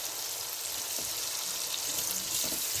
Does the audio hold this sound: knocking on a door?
no